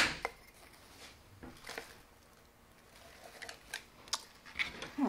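Scissors snip through deco mesh wreath material with beads, a few short crisp cuts scattered over quiet rustling, close and fairly soft.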